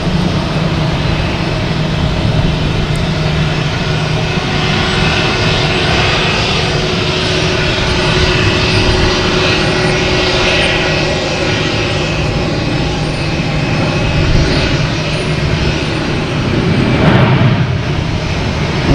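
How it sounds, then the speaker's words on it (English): A Spirit Airlines airplane lands at Boston Logan Airport, its engines producing a continuous broad roar heard from a distance, with a slight swell near the end. "We have that Spirit just landed coming in here"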